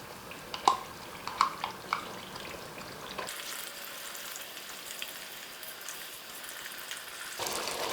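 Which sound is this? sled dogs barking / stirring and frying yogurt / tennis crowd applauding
stirring and frying yogurt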